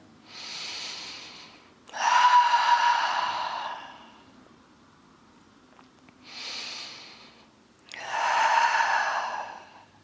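Deep yoga breathing, four slow breaths alternating inhale and exhale, each lasting one to two seconds with quiet gaps between, close and clearly audible with no talk.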